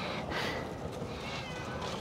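A cat meows inside a carrier amid steady, loud background noise, the calls blending into a continuous hiss-like din with no clear speech.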